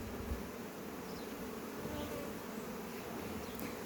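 Honeybees defending a hive against robber bees make a dense, continuous buzzing swarm, steady and close throughout with no talking.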